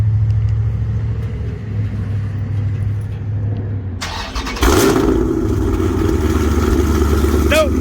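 A car with freshly repaired exhaust leaks idles with a low rumble, then the engine revs up midway into a loud, deep exhaust roar heard close by; a person speaks over it.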